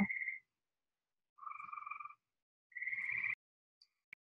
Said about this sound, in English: sorry if you can like hear the frogs